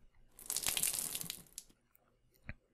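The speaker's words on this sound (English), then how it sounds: "When I open the valve, I will drain the water until all of the water has been removed." Water draining out through an essencier valve in a video game, a rushing, splashing gush lasting about a second, then trailing off into quiet, followed by a single short click.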